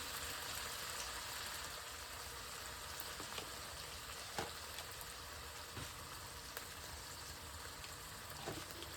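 Spice paste cooks in oil after a splash of water is added, producing a steady, soft bubbling sizzle with occasional small pops, close up and continuous, with no voices.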